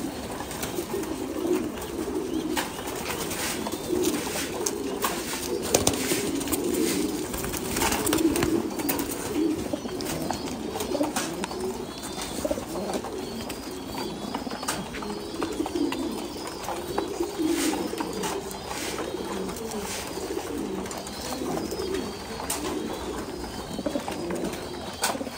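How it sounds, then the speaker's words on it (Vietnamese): Pigeons of a Yên Thái breed coo in a farm loft, a steady layered chorus of low throaty calls from several birds throughout, with occasional wing flutters and no talk. "Chim bồ câu đa vàng của chim bồ câu Yên Thái này."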